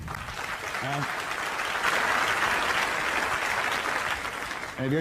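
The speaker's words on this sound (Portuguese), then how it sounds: "Aplausos, por favor." Audience applause welcoming a volunteer onstage at a live presentation, a broad sustained clapping that builds and holds, with a voice speaking briefly at the start and again at the end.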